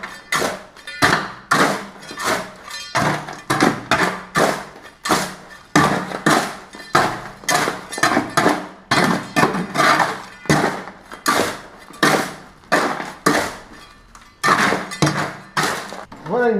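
Concrete is mixed by hand in a garage with repeated scraping, gritty strokes in an irregular rhythm, loud and close, while a person speaks intermittently over the work.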